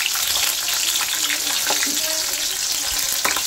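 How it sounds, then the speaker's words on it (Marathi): Green chillies frying in hot oil in a pan, a steady dense sizzle with a few soft stirring clicks, close and continuous on its own. "मिरच्या अशा दोन्ही साईडने लालसर अशा तळून घ्याव्या"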